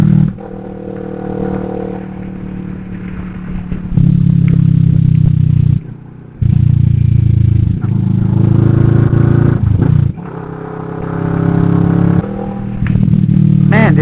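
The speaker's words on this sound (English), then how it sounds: "The sound of this motorcycle is amazing." A motorcycle engine roars steadily, revving up and down with brief drops between gear changes, loud and close, with a rattling edge.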